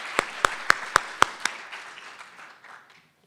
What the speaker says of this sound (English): which I think deserves a round of applause